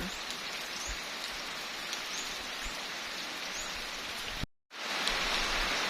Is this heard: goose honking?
no